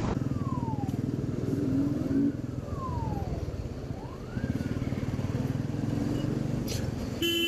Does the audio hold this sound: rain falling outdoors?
no